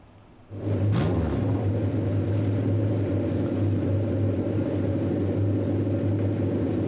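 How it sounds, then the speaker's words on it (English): Formula 4 race car engines fire up together on the starting grid at VIR (Virginia International Raceway), a sudden loud start jumping into a sustained, steady low rumble of many idling engines with a brief rising rev early on. "Ladies and gentlemen, start your engines."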